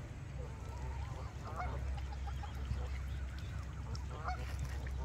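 A gaggle of geese honks repeatedly at Lake Tomahawk, overlapping calls rising and falling over a constant outdoor rumble, fairly close.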